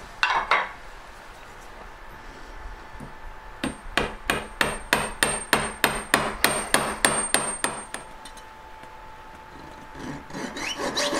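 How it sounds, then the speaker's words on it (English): A steady run of about fifteen sharp metallic hammer blows in even rhythm, ringing close by, with quiet pauses before and after. "I'm going to hammer it a bit flat"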